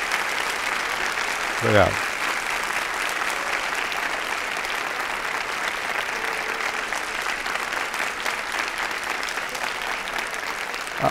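Sustained audience applause follows a lecture, a broad, even wash of clapping that runs throughout, with a voice briefly speaking over it near the start.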